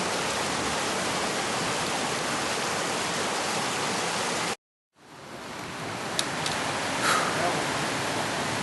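Steady broadband rush of water at Lytle Creek, loud and continuous, cutting out briefly midway before resuming slightly softer with a few faint sharp clicks.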